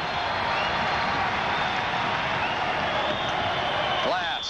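A basketball arena crowd at a 1987 DePaul versus St. John's college game roars continuously throughout, a dense steady wash of cheering with a commentator talking over it.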